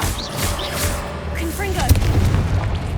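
Bombarda blasting spell in the Hogwarts Legacy video game, a deep booming explosion with rumbling low end and scattered crackling debris, loud and sustained over three seconds, with faint voice-like game sounds mixed in.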